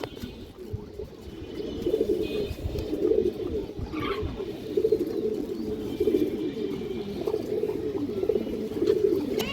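A female Sobji Musoldom pigeon coos in soft, repeated throaty bursts at a steady rhythm, close by, over low background rumble with a brief chirp midway.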